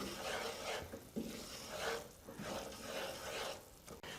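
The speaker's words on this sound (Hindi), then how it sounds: "मैदे को गोल्डन ब्राउन होने तक पकाते रहें।" Flour stirred and fried in a pan until golden brown for date halwa, with a steady close scraping and rasping stir that swells in repeated strokes over a soft sizzle, and no talking.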